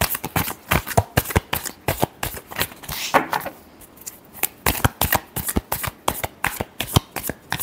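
A deck of tarot cards being shuffled by hand: rapid, rhythmic riffling bursts repeat steadily throughout, close and crisp, with a brief pause in the middle.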